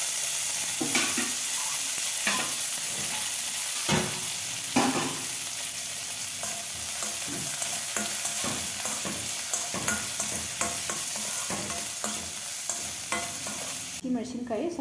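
Cluster beans stir-fried in oil, with continuous sizzling and frequent scraping, clattering stirs throughout, close and fairly loud.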